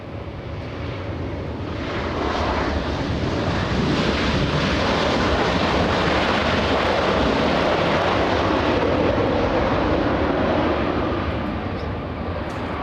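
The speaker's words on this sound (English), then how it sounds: "Boeing 787 short final, wind 24012, runway 24 right, clear to land" A Boeing 787 landing on runway 24 right at LAX, a broad, steady jet roar that swells after the first couple of seconds and holds loud and even throughout, with no voices.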